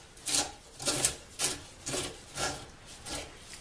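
Oversized wooden dowel blanks are turned by hand a few turns in a dowel maker, giving six soft, rhythmic rasping scrapes of wood against the cutter, close and quiet.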